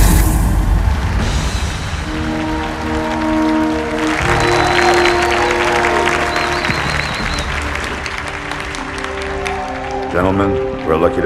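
A crowd cheers and applauds in the Halo 2 video game, a steady wash of clapping that runs throughout beneath sustained tonal music, with voices speaking over it.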